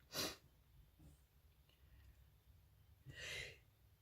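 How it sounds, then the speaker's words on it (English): A sharp, breathy burst of air at the start, then quiet, followed by a second longer huffing exhalation near the end. "I think I'm going to sneeze"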